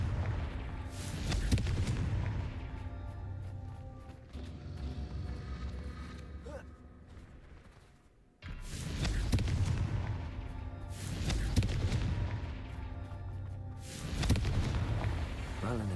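Repeated heavy fiery blasts of the Confringo spell in Hogwarts Legacy, loud booming bursts arriving in clusters with short lulls between them, a brief near-silent gap midway, then more rapid explosive hits.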